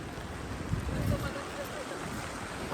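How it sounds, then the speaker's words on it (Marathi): A boat moves across a dam reservoir near Pune, producing a steady wash of water and wind buffeting the microphone, with some voices talking over it. "पाण्यातून बोट घालून आलोय"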